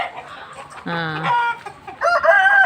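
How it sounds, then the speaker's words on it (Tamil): Chickens at a roadside chicken shop that keeps its own farm: a rooster crows loudly and nearby while hens cluck in bursts against a low background hum. "நல்ல நிறைய கோழி கோழி கடை இது பண்ணையே வச்சுருக்காங்க"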